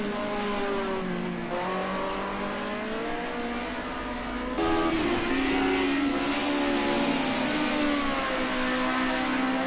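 Group A touring race car drifting through a corner at Sonoma during a late-race lap, its engine droning loudly and steadily with a tonal whine, rising in pitch partway through amid strained, squealing tires.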